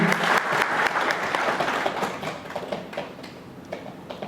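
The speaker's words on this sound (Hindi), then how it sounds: "इस प्रोडक्ट के लिए जोरदार तालियां हो जाएं, बेहतरीन तालियां इस प्रोडक्ट के लिए है।" Applause from a seminar audience at a wellness product presentation, loud sustained clapping that thins slightly toward the end, with individual claps standing out and no speech over it.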